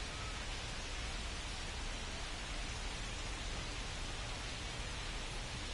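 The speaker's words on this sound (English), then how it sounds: "The rain is here, and it doesn't look like it's going away anytime soon" A steady rainstorm hisses over a ballpark in MLB The Show 25, a dense, even wash of falling rain that fills the whole stretch with no break and no voices.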